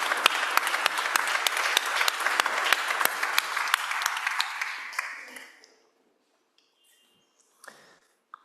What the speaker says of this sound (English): please give a big applause to these excellent panelists